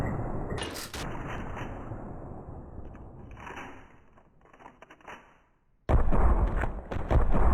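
Rocket launcher blasts and gunfire in the video game Ravenfield: sharp bursts and booms early on, a quieter stretch of distant rattling shots, then a sudden loud sustained barrage near the end.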